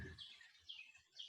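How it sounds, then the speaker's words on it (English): Birds chirp outdoors in a rainy setting, with a few short, high tweets repeating at intervals; they sound faint and distant against a quiet background. "I hear birds"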